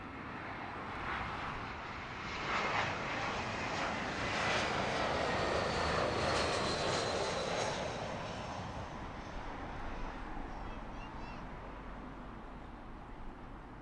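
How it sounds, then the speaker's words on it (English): A British Airways Airbus A320-200 from Naples lands on Heathrow's southern runway 27 left, its engines a loud, broad roar that swells mid-pass and then slowly fades and settles, with no voices. "arrival, British Airways 535 from Naples, that's an A320-200. Land 27 left"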